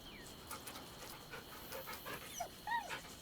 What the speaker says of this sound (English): The dog wags his tail, a small bag clenched.